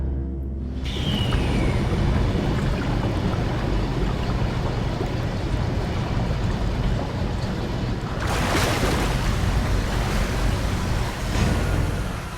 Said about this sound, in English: So let's flush this sucker.